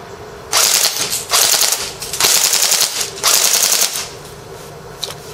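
Tokyo Marui SOPMOD airsoft rifle with a PMAG firing full auto in four sustained, rapid, loud mechanical bursts, each about a second long with short gaps, close to the listener and without talk.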